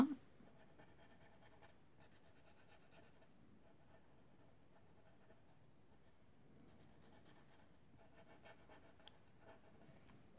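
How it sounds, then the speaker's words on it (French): Flowers on a stamped birth card being coloured in by hand, a very faint, close scratching and rubbing of the tool on card that comes in soft bursts with short pauses, with no talk. "je viens peindre, voilà, colorier mes fleurs"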